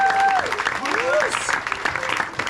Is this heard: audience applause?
yes